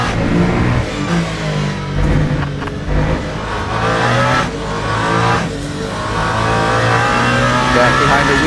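Race car engine in Le Mans Ultimate, the number 8 car short shifting through the second Mulsanne chicane at the 24 Hours of Le Mans, with a loud, steady engine note that rises and dips through quick gear changes under commentary.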